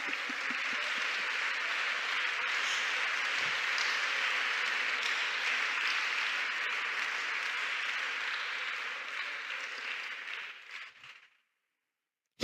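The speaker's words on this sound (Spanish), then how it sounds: "Dale un aplauso a la gloria" A church congregation applauds together at a Christian women's teaching service, steady sustained clapping that holds for about eleven seconds, then fades out and stops abruptly.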